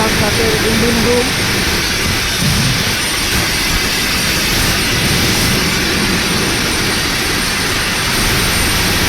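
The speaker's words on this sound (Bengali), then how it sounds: "এমখান সাথের ইঞ্জিন রুম।" A river launch's engine room, the MV M Khan 7, fills the space with a loud, continuous, dense diesel roar and rumble that stays unbroken from start to finish.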